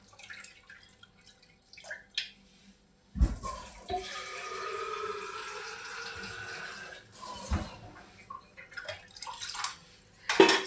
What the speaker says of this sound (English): I have to wash the meat thoroughly